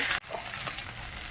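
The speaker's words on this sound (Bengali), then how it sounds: "জিরে বাটাটাও ভালো করে একটু ভেজে নেই 2 মিনিট।" Ground cumin paste fries in a pan with a dense, close sizzle, broken by a brief dropout of sound and a soft stir clink.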